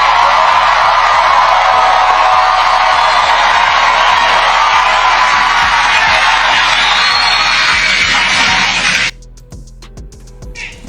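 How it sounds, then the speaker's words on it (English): Loud audience clapping and cheering at a political talk show, a dense sustained roar of applause with whoops that cuts off abruptly near the end, leaving a quieter room. "We gotta clap for that"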